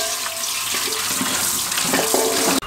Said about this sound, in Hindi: पानी खुला चलाएंगे और इनको अच्छे तरीके से वॉश कर लेंगे।